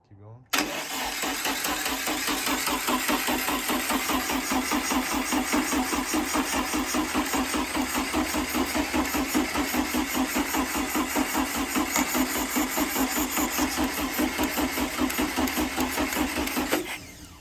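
A 1968 VW Bug engine with a fuel leak cranks steadily and continuously for about sixteen seconds in a rapid, even rhythm, loud and close, with people talking briefly over it.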